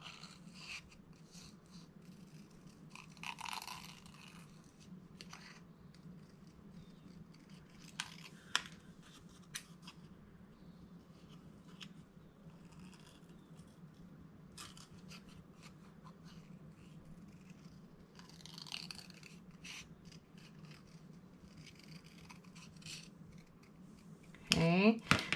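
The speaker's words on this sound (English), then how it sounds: "So I've cut it away from the paper and then turning it into the mouth of my scissors." Scissors snip paper for a frog collage in sparse, quiet cuts with soft paper rustling between them, against a faint steady hum, and a brief louder crinkle comes at the very end.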